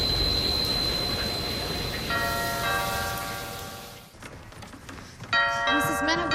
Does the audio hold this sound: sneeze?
no